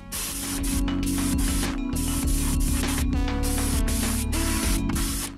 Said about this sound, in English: Now we're going to go over this whole thing with a white base coat.